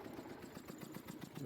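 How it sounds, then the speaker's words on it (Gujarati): A tractor engine runs steadily on a trip out to the farm fields, giving a close, continuous low chugging with an even pulsing rhythm throughout. "આપણું આ ટ્રેક્ટર છે પાછું બહુ સારું."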